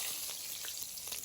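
Bay leaf tempering in hot oil left from frying katla fish crackles in a brief, bright sizzle with a few sharp spits and pops over a steady hiss.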